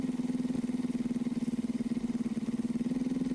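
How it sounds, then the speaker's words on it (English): A moped engine in a pizza-delivery video game runs with a steady, close, buzzing drone, pulsing rapidly and evenly in a knocking, chugging rhythm throughout, loud and alone with no talk. "You might want to check your moped engine."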